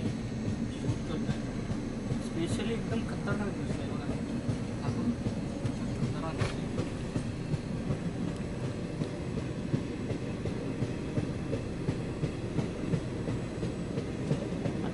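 Steady rumble of a moving train on a rail journey through Jharkhand between Mumbai and Kolkata, a continuous low roll with faint rhythmic clatter heard from inside, with brief voices in the background.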